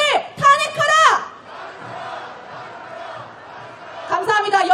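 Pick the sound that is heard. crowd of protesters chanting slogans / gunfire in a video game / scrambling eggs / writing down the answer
crowd of protesters chanting slogans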